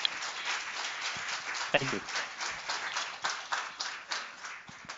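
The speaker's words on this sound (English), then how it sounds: "So please, a last round of applause for both of them." Audience applause for two speakers, moderate clapping running steadily for about five seconds, with a brief spoken thanks partway through.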